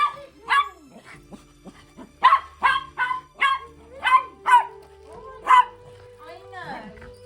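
Two happy dogs barking excitedly at home, a run of loud, sharp, closely spaced barks with whimpering yips between them and voices nearby.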